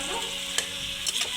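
Pulao being stirred and mixed in a pot at home, a close, continuous scraping and sizzling with a few sharper clinks, no voices.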